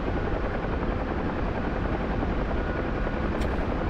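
A helicopter in the DCS World flight simulator drones steadily from start to finish, a dense, loud rotor and engine roar with no talking over it.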